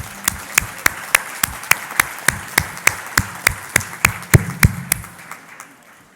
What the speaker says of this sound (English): One more round of applause, please, for the Honor Guard and Emily.